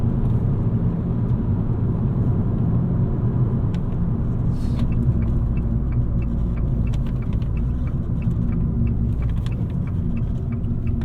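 A 2018 Fiat 500 Pop engine while driving, a steady low rumble heard from inside the cabin that continues throughout, with faint clicks and no talking.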